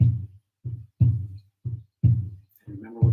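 A hand drum is beaten in a heartbeat pattern at a sunrise ceremony: deep, resonant paired thumps, loud and close, repeating evenly three times.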